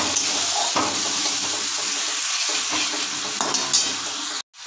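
Spice paste thinned with a little water, for a festive-style vegetable dal, sizzles steadily in the pan while it is stirred, with a few scraping clicks, close and continuous until a brief cut near the end.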